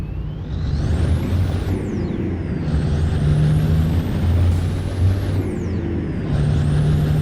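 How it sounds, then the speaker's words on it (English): Simulated truck air brakes hiss in American Truck Simulator over a steady low engine rumble, with sharp pneumatic releases and whistling tones sweeping up and down several times. "Brake sounds."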